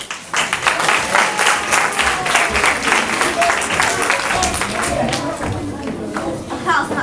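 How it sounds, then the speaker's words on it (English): A school theatre audience applauds with dense, sustained clapping throughout, loud and close, with a few voices mixed into the crowd. "Let a big clap to Joanna and Eddie."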